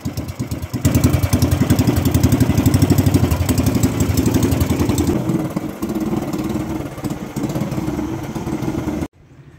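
An 18 hp Jaguar boat engine runs with a rapid, clattering putter, loud and steady, then eases slightly before cutting off abruptly.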